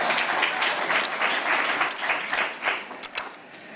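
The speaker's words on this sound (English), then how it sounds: "please give her a round of applause for saying that" Audience applause at a talk, a short burst of brisk clapping from a modest crowd, thinning into a few scattered claps at the end.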